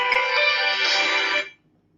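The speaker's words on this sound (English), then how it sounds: "oh my goodness, my phone is ringing" A mobile phone ringtone plays loudly and steadily for about a second and a half, a dense melodic tone that then cuts off into near silence.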